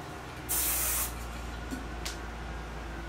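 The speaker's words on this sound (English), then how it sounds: "A little spray." Hairspray sprayed onto styled hair: one loud, close, half-second hissing burst, followed by a much fainter brief puff.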